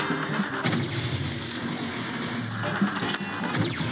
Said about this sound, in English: he's shooting those bombs at me